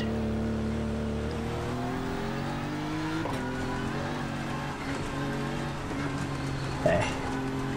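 A race car engine in iRacing during a rain race drones steadily and close. The pitch climbs and falls through gear changes, with a brief louder burst near the end.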